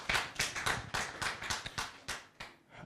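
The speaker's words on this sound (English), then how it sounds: "I appreciate the applauding about that for some" Audience applauding during a talk at a digital society conference; a short burst of clapping with distinct individual claps, moderately close, fading out over a few seconds.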